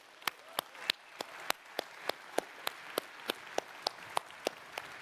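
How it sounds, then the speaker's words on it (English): Sparse audience clapping at a Xiaomi launch event in Barcelona: a scattering of distinct, evenly spaced claps over a quiet room, fairly faint rather than a full ovation. "Big round of applause, Barcelona and friends of Xiaomi."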